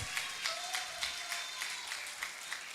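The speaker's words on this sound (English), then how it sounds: "Please, a round of applause." An audience at a postgraduate conference award presentation applauds, steady clapping at moderate distance with a rhythmic pulse throughout.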